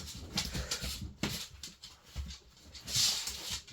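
A dog whimpers and whines softly in short bursts, with rustling and shuffling movement around it at close range.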